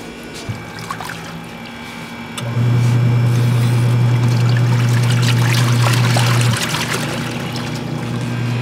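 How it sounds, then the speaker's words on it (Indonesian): Two washing machines run on a hotel rooftop in Makkah, a steady mechanical hum with sloshing water that grows louder partway through and then eases slightly. "Oh, ini jadi pakai dua mesin cuci ya."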